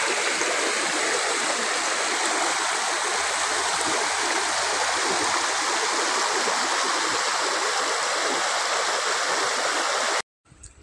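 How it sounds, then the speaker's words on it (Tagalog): A clear stream flows steadily, a continuous close rushing and gurgling wash of water that holds level throughout before cutting off briefly at the end. "Ang ganda ng batis, ang linaw-linaw."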